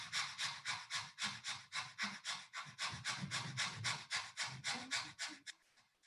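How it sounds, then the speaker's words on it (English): Rapid, rhythmic belly breathing during a yoga exercise, about three forceful exhales per second in an even pumping pattern, close and fairly quiet, slowing and fading at the very end. "you're going to breathe faster with your stomach"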